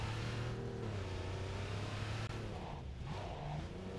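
A Porsche engine in the video game Cyberpunk 2077 drones steadily, its pitch rising and falling slightly as it revs, at a moderate distance and fairly quiet.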